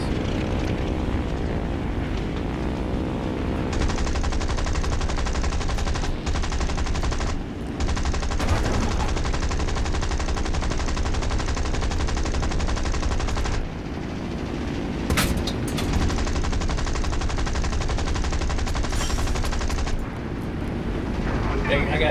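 Bursts of machine gun fire from a propeller aircraft in War Thunder, rattling loudly over a steady droning engine, with several separate volleys broken by short pauses.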